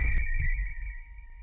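A synthesized cricket-like tone from a Mask1 synth, a steady high ringing pitch over a low throbbing rumble, with a couple of short pulsing bursts at the start, heard alone.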